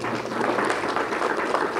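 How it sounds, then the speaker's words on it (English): An audience at a ribbon cutting for a center for successful aging breaks into steady, dense applause, a sustained crowd of clapping hands heard fairly close and loud without voices. "You should clap right there for that."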